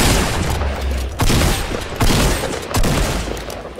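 Rapid gunfire from the Fortnite video game, several loud bursts of shots and booms in quick succession against a dense, noisy game-sound background.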